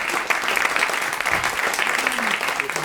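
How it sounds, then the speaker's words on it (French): An audience at a theatre round table applauds steadily for a few seconds, giving a dense, even patter of many hands clapping, with faint voices underneath. "Je vous demande de l'applaudir."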